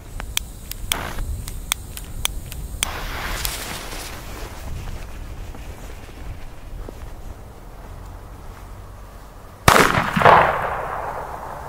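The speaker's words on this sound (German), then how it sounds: "als nächsten Böller haben wir hier den Super Böller A von Keller." An old Keller Super Böller A firecracker with a resin-sealed end and thick casing goes off in one sharp, loud bang near the end, after a stretch of quiet clicks and rustling, then trails off into a short noisy tail.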